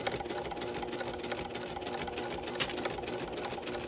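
A sewing machine runs steadily, stitching along the folded edge of a round potholder with a continuous, close mechanical whir that holds an even pace throughout, with no voices.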